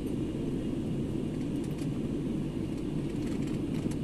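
Steady airplane cabin noise during a Mumbai to Guwahati flight, a dense, even low roar and hiss from the engines and airflow that holds constant without voices.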